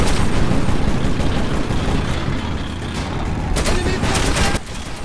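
Continuous heavy gunfire and booming blasts from combat in Metro 2033 Redux form a dense, loud rumble, with a sharper crack near the end.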